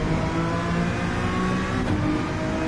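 Race car engine in a racing video game, droning steadily at high revs with a continuous tonal whine, close and loud throughout with no pauses.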